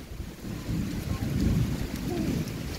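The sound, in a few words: heavy rain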